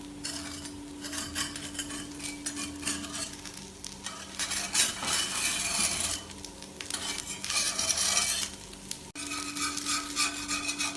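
Karnataka-style neer dosa stirred in a pan, a spatula scraping and rubbing in steady strokes over a soft sizzle, close and continuous with no talking.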